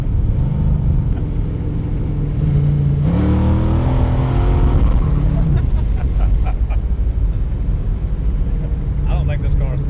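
A Chevrolet Nova with a bent back wheel drives with a steady engine drone that rises into a rev, heard from inside the car while people talk over it.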